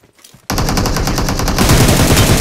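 Loud automatic gunfire in the PUBG video game, a rapid continuous burst of evenly spaced shots that starts abruptly after a brief quiet moment and keeps going without pause, close and dominant.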